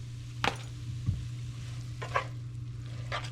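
Ground beef or turkey sizzles softly in a pan for fajitas under a steady low hum, with a few short scraping stirs as the meat goes back in.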